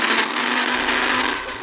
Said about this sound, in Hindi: और अब हम इसको ब्लेंड कर लेंगे